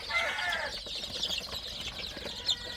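Young desi chickens, sick from the cold, give soft clucks and light wing flapping, faint and close, with a short flurry near the end.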